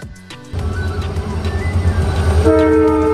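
A train rolls past a railway level crossing, its loud rumble and rattling wheels starting abruptly and then joined by a sustained horn blast near the end, close and dominant with no talking.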